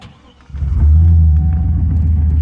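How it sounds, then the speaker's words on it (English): Six-liter truck engine cranking and catching after a quiet start, then settling into a loud, deep idling rumble that stays steady and close. "It's the sound of a 6-liter just drinking it up this morning."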